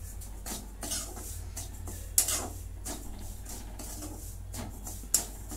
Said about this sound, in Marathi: हा रवा चांगला मी असं भाजून घेते बारीक गॅसवरती